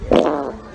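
A single fart lasting under a second, with a buzzy, drawn-out tone that swells and trails off, heard alone without talk.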